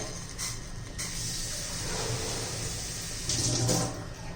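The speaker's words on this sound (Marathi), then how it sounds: "मी दोन वाटी पाणी घेतलेलं आहे" Water pours steadily into a cooking pot for jaggery and semolina sheera, a continuous rushing splash close by that swells briefly near the end, with no talking.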